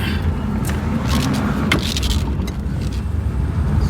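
A 1966 Rolls-Royce Silver Cloud cruises along a road in Palm Springs, with a loud, steady engine and road rumble and occasional light rattles and scrapes from inside the cabin.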